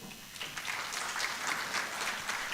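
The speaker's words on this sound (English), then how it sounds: "Let's clap for them." Audience clapping at an HIV service delivery integration summit afternoon session, a steady, moderately faint patter of many hands sustained throughout with no talk over it.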